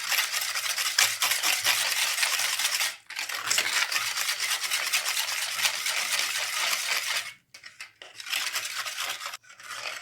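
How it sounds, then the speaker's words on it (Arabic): Whisk or spoon stirring orange basbousa cake batter in a bowl, a steady scraping, clinking churn that runs nearly continuously with two brief pauses and a choppier finish, close and fairly loud, no voices. "المهم دابا خلطت مزيان كيف ما كتشوفوا كاع المكونات راه تجانسين لينا"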